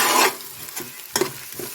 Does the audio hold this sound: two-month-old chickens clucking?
no